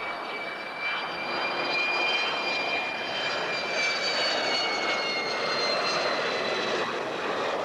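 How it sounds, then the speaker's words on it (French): Airplane passing roughly a hundred metres away, a continuous broad roaring drone with a faint high whine, steady and fairly loud without a break. "Et un avion à 100 mètres de nous?"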